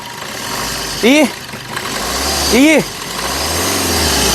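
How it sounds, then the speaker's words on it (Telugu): A Maruti Suzuki Brezza diesel engine idles steadily after a single-crank start, low and close, while two short rising-falling tonal chirps sound about a second and a half apart. "సింగిల్ సెల్ఫ్లో కార్ స్టార్ట్ అవుతుంది, ఎటువంటి స్టార్టింగ్ ట్రబుల్ అయితే లేదు"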